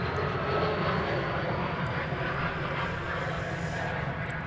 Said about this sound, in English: There's Alaska Airlines Flight 303. It's going to Portland. 737-9.